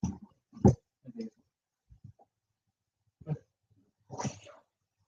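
A pet dog makes a few short, close vocal sounds in a quiet room, scattered bursts of varying loudness with silent gaps between them.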